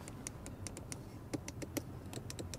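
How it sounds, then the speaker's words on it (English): Sharp clicks from the inside door window levers of an Audi RS7, irregular and fairly close, several in quick succession with short gaps and a faint background hum. "I like it also how the clicking sounds are here"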